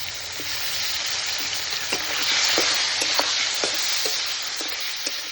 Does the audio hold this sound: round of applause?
no